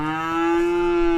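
A cow in the border-checkpoint game Contraband Police lets out one long, loud, steady moo that lasts the whole moment, close and clear, with no voices over it.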